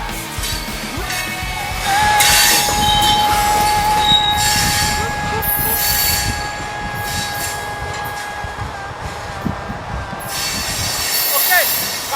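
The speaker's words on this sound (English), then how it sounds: "Okay, come on for the next train!" A train rolls past with its wheels squealing in long, piercing metallic tones over a heavy, rattling rumble, loud and close, the screech fading and returning as the cars go by.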